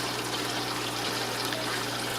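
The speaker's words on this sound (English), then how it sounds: "I've drilled holes in each drawer and allow the water to run down through" Water trickles and runs steadily down through drilled drawers of a DIY wet/dry sump filter holding floss and lava rock media beneath a 55-gallon aquarium, a continuous close splashing wash over a low pump hum.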